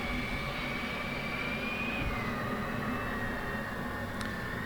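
F/A-18C Hornet auxiliary power unit spinning up in the DCS flight simulator, a steady jet-like whine rising slightly in pitch over a constant rumbling drone, continuous and fairly loud with no talk.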